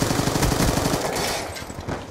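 Rapid gunfire from a Black Ops 2 match, a dense loud burst of shots packed close together that thins out toward the end, with no talk over it.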